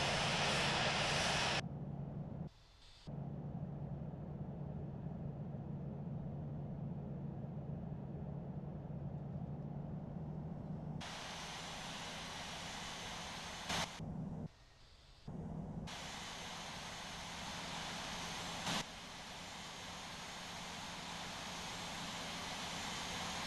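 An Air Canada A220 taxiing in the Infinite Flight simulator gives a steady, loud jet engine drone that holds nearly unbroken for the whole stretch, with a few brief dropouts.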